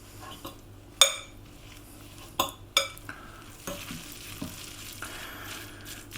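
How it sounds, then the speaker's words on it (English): Potato latke batter mixed with flour, salt, pepper and egg in a bowl, with sharp spoon-on-bowl clinks at irregular intervals over soft wet stirring and a quiet background hum, no speech. "add your flour, salt and pepper, add the egg, give it a good mix"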